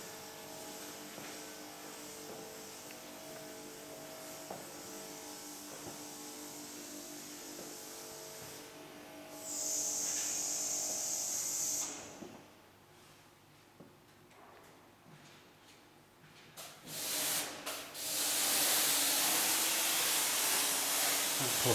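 Traffic passing outside Fort Redoubt, heard from inside a room of the fort as a low continuous rumble with a louder vehicle rush and hissing surges midway and again toward the end.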